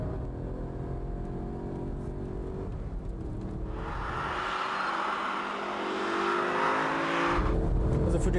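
A Hartge BMW 1 Series H1 with a 5-litre, 450 hp engine drives on with a steady, loud engine drone and rising rev note, alone without talk.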